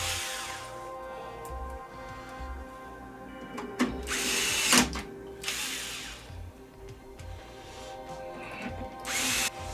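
A power tool backs screws out of a Philips 40PFL3705 LCD TV, with several bursts of whirring motor between pauses and a few ratcheting clicks, close and fairly loud, with no one speaking.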